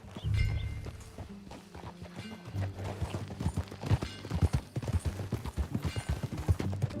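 Horse hooves clip-clop on the ground in Red Dead Redemption 2, starting slow and sparse, then settling into a quicker, steady riding rhythm that grows louder and closer, with faint background ambience.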